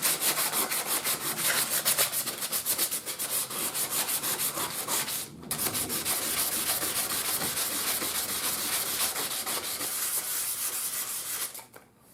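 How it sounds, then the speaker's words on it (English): Hand sanding with a piece of 220 grit sandpaper during an old Amplion horn speaker restoration gives a loud, close, rhythmic back-and-forth scratching that runs almost continuously, with one brief pause partway and no talk. "we'll take some sandpaper now and finish them. Alright, that's a piece of 220."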